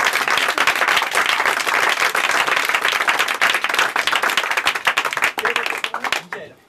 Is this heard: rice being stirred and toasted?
no